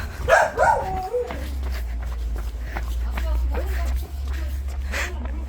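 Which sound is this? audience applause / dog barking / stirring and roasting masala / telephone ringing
dog barking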